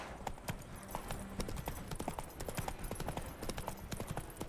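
Hooves of a horse in The Witcher 3 clip-clopping at a steady, quick pace, fairly faint under a busy game soundscape with no talk.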